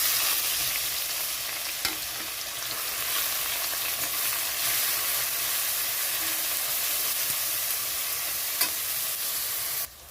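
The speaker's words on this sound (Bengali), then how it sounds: "এখানে পেঁয়াজটাও ভালো মতো ভাজা হয়ে গেছে" Onions frying in oil with garlic, bay leaf and green chilli for a spicy chenga fish curry, a steady loud sizzle with occasional stirring clicks throughout.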